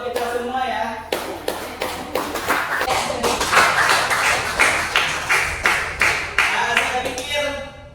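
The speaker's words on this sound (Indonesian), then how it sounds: "Oke, beri aplaus buat kita semua ya." Steady rhythmic clapping from a group at a teacher training session, sustained and fairly loud with a crowd murmur and voices mixed in.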